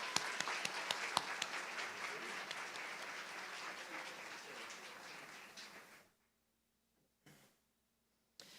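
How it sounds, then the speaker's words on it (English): An audience at a commencement ceremony applauds in a sustained burst of clapping that fades out after about six seconds, followed by near silence with a brief faint noise. "Please, a quick round of applause for all the business and technology graduates."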